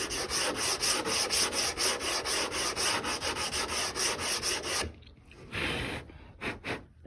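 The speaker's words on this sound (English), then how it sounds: "Taking my sandpaper at about a 45-degree angle, or my sanding block at a 45-degree angle." A sanding block is rubbed along the edge of an old wooden rack, making rapid, rhythmic, rasping strokes close up for several seconds before it slows into a few scattered scrapes.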